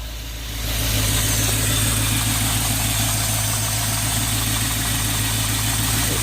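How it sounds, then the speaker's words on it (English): A 1997 Land Rover Discovery with a 4.0 V8 engine idles steadily after starting, a smooth low rumble with a constant hum, close and alone without any talk. "And here's the engine running."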